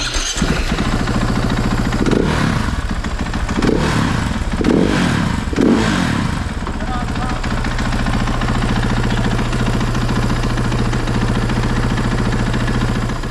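A KTM supermoto motorcycle engine rumbles at a steady idle, broken by a few quick throttle blips early on before settling back to an even, loud idle with some mechanical clatter.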